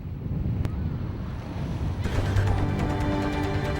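Ocean waves wash steadily at Haeundae beach in Busan, a continuous broadband surf roar with strong wind buffeting the microphone and no voices.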